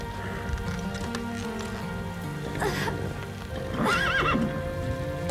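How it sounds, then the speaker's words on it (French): Horse neighing loudly twice with a shrill whinny, over steady galloping hoofbeats and a dense background, in an animated riding-adventure series. "Tu dois galoper!"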